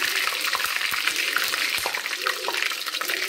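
Mustard seeds splutter and crackle in hot oil along with fenugreek seeds, dried red chillies and curry leaves, making a dense, steady sizzle with scattered pops close by.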